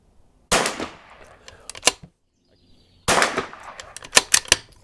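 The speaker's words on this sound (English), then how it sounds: "You could tell based on the crack, it was very, very fast compared to the other shots." Two sharp rimfire rifle cracks from a Vudoo V-22 at a shooting range, each a loud close snap followed by short echoing reports and clatter, separated by about two and a half seconds of quiet.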